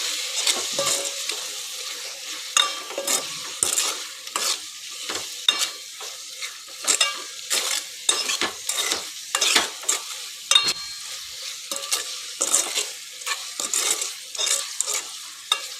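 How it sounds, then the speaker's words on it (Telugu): Spoon stirring turmeric and spices in a pan for ridge gourd sambar, with steady scraping strokes over a light sizzle, close and continuous with no speech. "పసుపు, ఇవన్నీ వేసి ఒకసారి మంచిగా కలపాలి"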